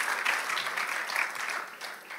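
An audience at a faith talk on anxiety gives a woman a round of applause: dense, even clapping that holds steady and then eases slightly toward the end.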